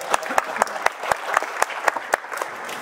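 An audience at a Worldcon science fiction convention memorial tribute claps with scattered, sharp handclaps at moderate distance. The separate claps come in a loose, uneven rhythm rather than a full ovation.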